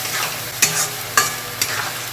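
Ground masala paste stir-fried in a pan for prawn bhuna, a close, continuous frying hiss punctuated by three sharp spoon scrapes against the pan.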